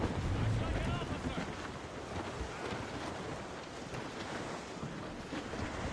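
Steady wind and sea wash around a sailing ship at sea in Assassin's Creed Rogue, a continuous loud rushing with waves slapping the hull, with faint voices under it.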